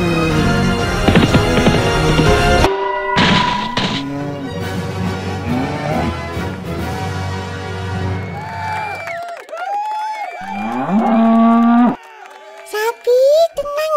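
A cartoon cow moos several times in an animated comedy set around Eid al-Adha, the calls mixed with music, sound effects and children's voices.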